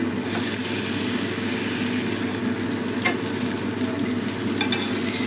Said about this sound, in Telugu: ఫిష్ పెట్టేద్దాం మంచిగా కుక్ అవుతుందండి ఇది మంచిగా ఫ్రై అవుతుంది